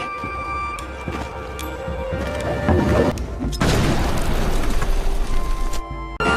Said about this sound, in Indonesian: tentara itu pun harus mati konyol setelah dilempar bom ranjau oleh Atami